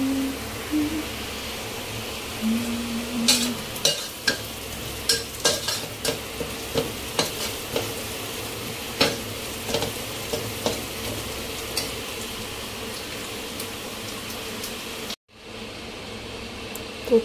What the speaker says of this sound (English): Cooking bihun soup.